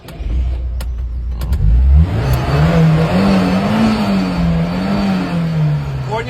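A 1973 car's engine is started by push button, cranking briefly and then catching into a loud, steady idle with a wavering drone that holds close throughout.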